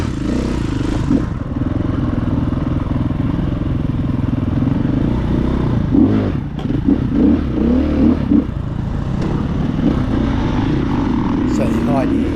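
A KTM 350 EXC-F dirt bike being ridden, its engine droning steadily with a few throttle swells and clattering bumps, close and loud, while a rider talks over it.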